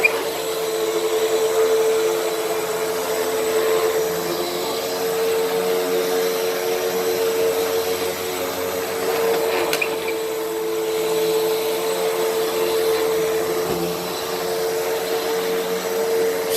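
A Hoover WindTunnel vacuum cleaner runs continuously on a dirty rug, giving a loud, steady motor roar with a constant whine and slight fluctuations as it is pushed back and forth.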